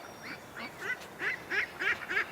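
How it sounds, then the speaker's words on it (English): Ducks quack in a quick series of about seven nasal calls, spaced fairly evenly and growing slightly louder, close by with little background noise. "It's full of ducks."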